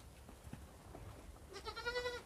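Goats on a farm: after quiet rustling and soft thuds, one goat gives a clear, wavering bleat of moderate loudness near the end.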